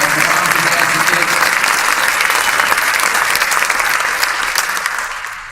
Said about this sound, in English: So give all the people participating a round of applause.